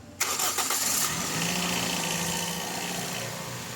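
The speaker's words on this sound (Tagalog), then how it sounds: "Start ko na nga itong makina." A Toyota Vios with a stiff clutch pedal and oil building up in the engine cranks and fires, then settles into a steady, fairly loud idle heard close up, with no talking.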